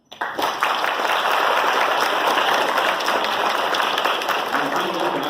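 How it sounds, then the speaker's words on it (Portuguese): Lecture-hall audience applauding a researcher, loud sustained clapping from many people that starts abruptly and stays even throughout, with voices mixed in. "que eu também quero pedir uma salva de palmas."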